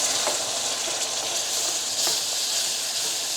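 Beef broth poured a little at a time into browned beef in a hot pan sets off a steady, bright sizzle and hiss, close and continuous, with faint stirring clicks and no talking.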